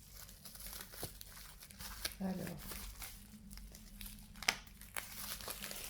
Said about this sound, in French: J'ai la montagne d'emballage à côté de moi là.